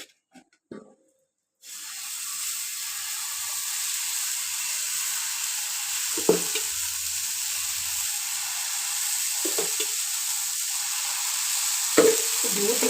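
Dosa batter for kara dosai hits a hot griddle after a brief quiet moment, setting off a sudden, steady sizzle that continues close and even, broken by a few soft clinks and touches.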